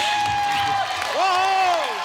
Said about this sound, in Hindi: जोरदार तालियों से स्वागत कीजिए कार्तिक आर्यन एंड भूमि पेडनेकर।